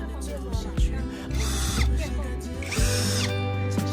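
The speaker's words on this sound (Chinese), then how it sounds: "刚好啊，这个电钻也到了。 如果这个电钻没有到，用螺丝刀拧的话，手都得拧抽筋。" An electric drill drives screws into preserved-wood flooring boards, with bursts of whirring and pauses, clicks and knocks in between, close and moderately loud.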